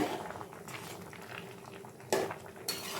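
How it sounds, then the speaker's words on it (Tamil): Water bubbles and simmers quietly in a pot of boiling raw mango pieces, with a couple of sharp clinks of a utensil against the pan near the end. "நல்லா கொதிச்சு வந்துட்டுருக்கு"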